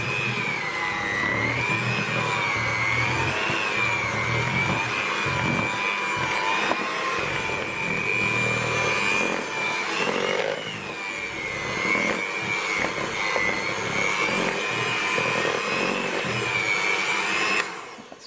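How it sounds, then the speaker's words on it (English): A steady, loud electric whisk runs continuously through Biscoff cheesecake mixture, its motor whine wavering slightly in pitch as the no-bake filling thickens, stopping abruptly at the end. "I'm going to whisk that slowly again until it's really thick and creamy."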